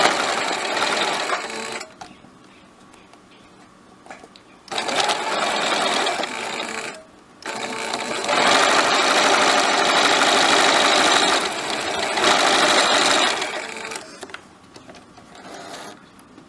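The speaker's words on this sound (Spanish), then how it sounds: "Ahora vamos a coser los lados de la cartuchera o lapicero." Sewing machine stitches the sides of a fabric pencil case in several loud, steady whirring runs separated by brief pauses, close up and with no talking.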